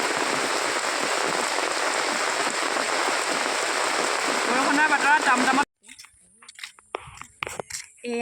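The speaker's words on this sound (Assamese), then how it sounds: "এইফালে ডাঙৰকৈ বৰষুণ দি দিলে" Heavy rain pours down steadily outdoors, a dense continuous hiss lasting several seconds before cutting off abruptly, followed by quieter scattered sounds and faint movement.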